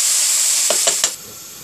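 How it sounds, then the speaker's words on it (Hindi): Spicy chicken wings steam in a pot, giving a loud steady hiss broken by three quick clatters before the hiss drops off abruptly. "इसको मैं स्टीम करूँगी।"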